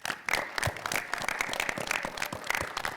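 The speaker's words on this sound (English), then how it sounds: "Let's have a special round of applause for the Bob Bullock Texas State History Museum." A studio audience at the Texas Quiz Show claps for the Bob Bullock Texas State History Museum, giving steady, moderately quiet applause that carries evenly through the whole short stretch.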